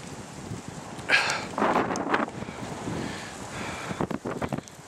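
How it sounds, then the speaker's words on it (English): Strong wind gusts buffet the microphone outdoors on a town street with lights, coming in rough surges of broadband rushing noise that swell and fade over several seconds. "The wind gusting vastly."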